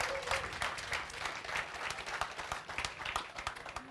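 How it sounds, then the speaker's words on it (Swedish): Warm audience applause at a Swedish para-sport awards gala, steady dense clapping from a crowd throughout, moderately distant and even in level. "vi ger Ida en varm applåd till här"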